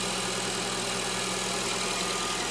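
A 2009 Honda Accord engine runs steadily after months sitting unused and a major oil leak, a constant close mechanical drone with a faint knock and no talking.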